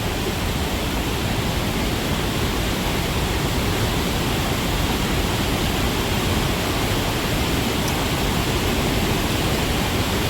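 Gunjiwada waterfall near Chitrakonda in Malkangiri, on the Odisha–Andhra border, gives a steady, loud roar of falling water that fills the full length without pause and with no voices.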